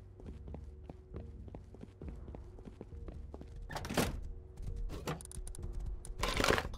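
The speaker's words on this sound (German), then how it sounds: "Ich komme mal Vollgas durchgeritten." Horse hoofbeats in the Rust video game thud in a quick regular rhythm at first, then become mixed with louder bursts of noise and clatter toward the end, with no talking.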